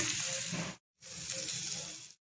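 Grated raw banana fries in a hot pan, producing a loud, hissing sizzle in two bursts separated by a brief silence.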